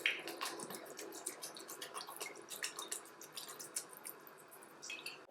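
White wine vinegar poured generously over a Mediterranean salad with raw garlic, a soft continuous trickle with small drips, quiet and close.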